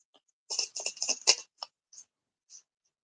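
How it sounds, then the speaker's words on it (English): Tarot cards being shuffled by hand, a short burst of crisp riffling and flicking followed by a few isolated soft card taps, close and quiet with no talk. "I'm shuffling the cards now for Sophia."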